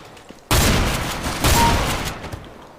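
A sustained, loud burst of rapid automatic fire from an MP9 submachine gun in a video game, about two seconds of continuous shooting with no talk.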